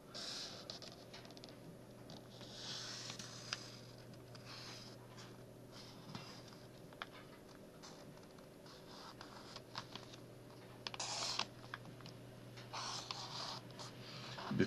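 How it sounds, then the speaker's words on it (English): A pen or marker scratches and scrapes along the edge of a paper envelope being marked for a collage, with soft steady strokes and faint paper handling close by, no voices. "on this time I will mark only edge of"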